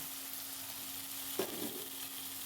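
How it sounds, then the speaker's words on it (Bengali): Green peas and onion fry in a pan, a continuous close sizzle with a brief stirring scrape midway. "মটরশুঁটিটা এর সঙ্গে একটু ভাজা হবে"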